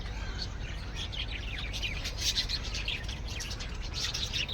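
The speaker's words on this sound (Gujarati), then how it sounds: "આમાં આવેલા છે પોપટ મિત્રો અને સફેદ ચકલીઓ" Parrots and white sparrows chirp and tweet at once in a jungle safari park in Surat, a busy, continuous twittering chorus over a low background hum.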